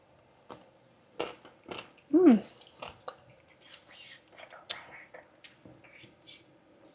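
Someone bites into and chews a crunchy, half-pickled spicy cucumber up close, with sharp irregular crunches and smacking, and a soft murmur of voice in between.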